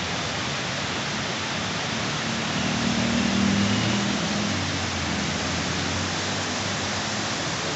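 Cold evening rain falling on the city of Cali, Colombia, a steady dense hiss of rainfall with a faint low rumble of passing traffic briefly swelling midway.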